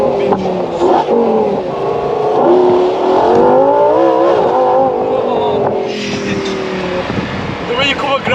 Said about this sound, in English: V10, naturally aspirated, so you're not waiting for any turbos